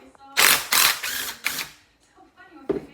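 A ratchet with a 12mm socket works a bolt on a Honda 300 engine, giving several loud bursts of rapid clicking separated by pauses, close up, with a little talk mixed in.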